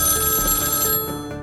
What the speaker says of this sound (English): Finally, the phone rang